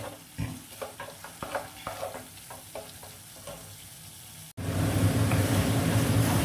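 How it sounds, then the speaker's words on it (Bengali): Spice paste is stir-fried in a wok, the spatula scraping in short strokes for several seconds before a sudden shift to a loud, steady sizzle roaring close by. "এখন আর মিনিট 2 মতো কষালে এটা হয়ে যাবে।"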